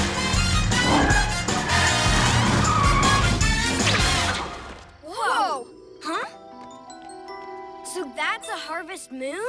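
A cartoon Cat Car speeds off in a loud, dense burst mixed with music for several seconds, followed by a series of short rising and falling squeals like skidding tires, with jingly effects and possible voices.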